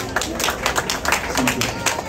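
Applause at an outdoor friendship picnic, a crowd clapping in quick irregular bursts with voices murmuring underneath, moderately loud.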